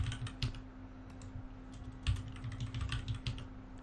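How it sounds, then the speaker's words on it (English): Rapid typing on a computer keyboard during a Windows Server 2019 setup, irregular close key clicks over a low steady hum, faint and alone. "If I can manage to type."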